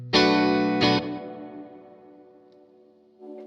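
A Westcreek JX20 electric guitar on a split humbucker setting gives a bright, quacky tone: two strummed chords in quick succession that ring and fade slowly, then a softer chord near the end.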